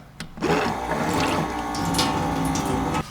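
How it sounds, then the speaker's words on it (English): Water runs steadily from a small battery-operated faucet fed by a 5-litre tank under a bench, a continuous close hiss and trickle with a faint motor whir, starting abruptly and cutting off near the end. "with the little battery operated faucet, it is piped into a 5 litre water tank which sits underneath the bench"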